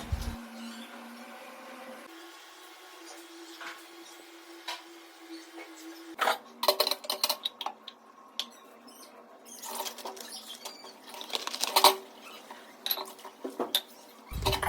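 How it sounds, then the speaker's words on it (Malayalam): Pots used for making tea are washed by hand at home, with intermittent close metallic clinks, scrapes and clatter that grow busier in the second half. "ചായ അടിച്ച പാത്രങ്ങൾ കുറച്ച് കഴുകാനുണ്ടായിരുന്നു"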